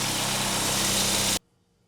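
A 2007 Ford Focus engine idles with a steady, loud broadband hum for over a second, then cuts off abruptly into near silence.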